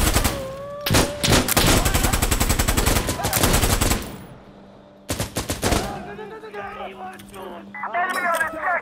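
Rapid automatic gunfire in the video game Insurgency: Sandstorm, long loud bursts broken by a pause and then another burst, with shouted voices over the shooting.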